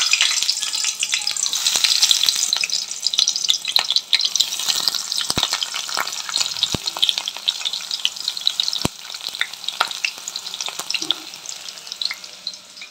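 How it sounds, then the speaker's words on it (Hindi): Onions fry in a hot kadhai for fried rice with egg, giving a loud, steady crackling sizzle throughout, with a few sharp utensil clicks over it. "अब इसको अच्छे से भूनना है, हमें फ्राई करना है"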